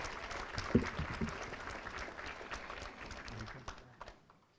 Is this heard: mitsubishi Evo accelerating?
no